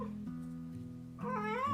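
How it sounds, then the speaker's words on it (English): A domestic cat meows insistently at a door, a drawn-out mew that rises into a louder, wavering cry near the end, close and clear with no voices. "it's the cat. We should let the cat in."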